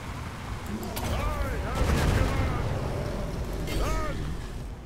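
Artillery bombardment in a Warhammer video game dwarf campaign: a continuous rumble of cannon fire and explosions with whistling shells overhead, a loud steady barrage throughout.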